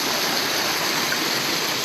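Zealand Falls, a waterfall on the Appalachian Trail in the White Mountains, gives a steady, full rush of falling and splashing water that stays constant from start to finish, with no voices.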